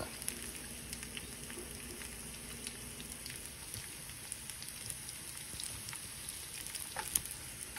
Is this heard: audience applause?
no